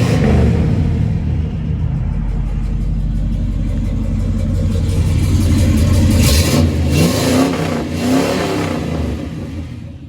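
A 1971 Chevrolet Monte Carlo's engine runs with a loud, steady low rumble through its dual exhaust, swelling briefly as if revved before settling back to idle.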